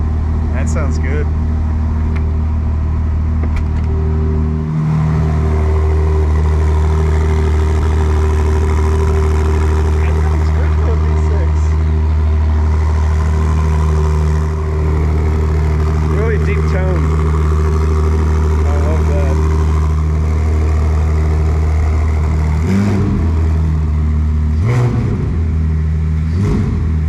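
A Ferrari 296 GTB engine idles loudly and steadily, a deep rumble throughout, with a few brief revs rising over it while people talk nearby.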